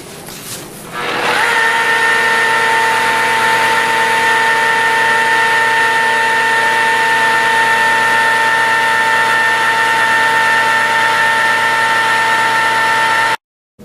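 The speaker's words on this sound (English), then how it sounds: "Our RPMs are going to be all the way down, and we're going to move slowly across the surface to let the product do its work." A rotary polisher fitted with a green foam applicator pad works across a quartz surface at low RPM, giving a steady, loud motor whine with a constant tone that starts about a second in and runs unbroken until it cuts off.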